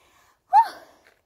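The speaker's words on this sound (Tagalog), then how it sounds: "Dami kong hingal." A single sharp, close gasp for breath from a hiker climbing long stairs on stage 3 of the Maclehose Trail in Hong Kong, trailing off into a faint exhale amid quiet.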